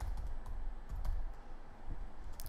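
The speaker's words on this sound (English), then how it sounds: "now I can type into the top" Fingers type on a computer keyboard in irregular clusters of soft, close clicks and taps, quiet and alone with no voices.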